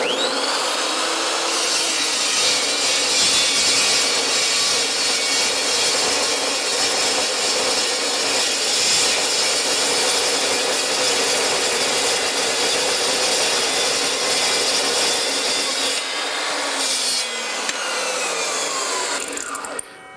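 A power saw cuts through solid round steel stock about 1.25 inches in diameter, a loud continuous grinding whine that holds steady for most of the stretch before tapering off and stopping at the end.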